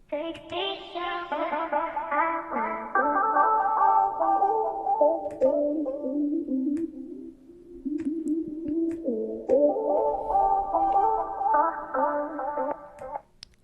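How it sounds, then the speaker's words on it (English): A hyperpop vocal chop in a beat: pitched, processed vocal snippets sliding up and down in a continuous, echoey melodic phrase that runs for several seconds. "I also added this hyperpop vocal chop right here,"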